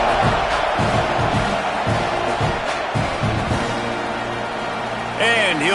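A football stadium crowd roars steadily at the kickoff of a season opener, with broad, continuous cheering and a few louder whoops rising out of the noise.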